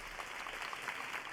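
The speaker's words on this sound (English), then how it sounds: "Everyone bursting into applause for Pibby." Applause from a crowd in the anime-style game Nikke, at the close of a new-semester speech: a short, faint patter of clapping heard alone.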